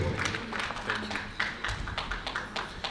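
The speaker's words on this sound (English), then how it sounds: "Please, a round of applause for our own brother Nacha Chofwe." An audience at a stakeholders' session in Taraba State applauds a presenter, giving a steady patter of many hands clapping at moderate volume that carries on evenly throughout.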